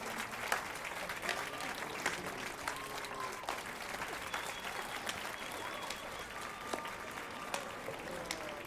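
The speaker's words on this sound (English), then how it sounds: "Round of applause, please." A crowd in The Witcher 3 video game breaks into sustained, moderately faint applause, scattered sharp claps over an ambient game soundscape with light tonal music.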